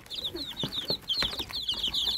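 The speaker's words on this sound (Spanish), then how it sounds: "¿Cuánto pollito allá? Yo creo que hay más gallinas echadas." Hens and chicks on a farm, some hens sitting on nests, cluck steadily with repeated high chirping from the chicks, close and fairly loud across the whole stretch, with no talk.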